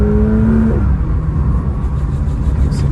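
A Porsche 911 GT3 RS engine drones steadily on the road, loud and close, with a low rumble and a rising tone early on that settles into an even cruising sound.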